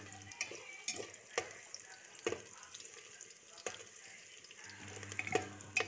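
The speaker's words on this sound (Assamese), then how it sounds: "এইখিনি এতিয়া ভালদৰে লৰাই দিছোঁ" Garam masala stirred into soybean pulao frying in a pan: scattered scraping stir strokes and soft sizzling, fairly quiet, with a few sharper knocks of the spoon against the pan.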